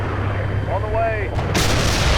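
Tank cannon fire in the Steel Beasts simulator, a sharp loud blast with a rumbling tail following a fainter whistling tone, heard over a constant low engine drone.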